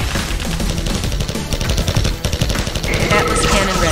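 Rapid bursts of heavy weapon fire boom and crackle through a busy, loud battle in the video game Red Alert 20XX, with a synthetic voice announcing an Atlas cannon firing over the din.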